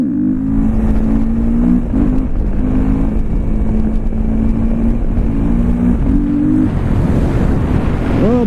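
2014 KTM 450 XC-W set up as a supermoto, its engine buzzing at a steady pitch with small shifts while riding, partly masked by heavy wind noise throughout.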